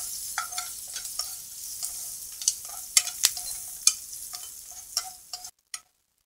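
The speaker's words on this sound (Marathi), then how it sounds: "हे सगळं छान तेलावरती परतून घ्यायचं." Curry leaves and green chillies frying in oil for dal fry, a crackling sizzle with frequent sharp pops and spatula ticks against the pan, close, ending abruptly in silence.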